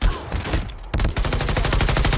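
Rapid automatic gunfire in the Call of Duty video game, loud bursts of shots that pause briefly and then resume in a dense rattling stream near the listener.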